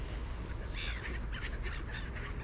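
Seagulls call several times in White Table Woods, a series of short, bright cries at moderate distance over a constant, heavy wash of outdoor background noise.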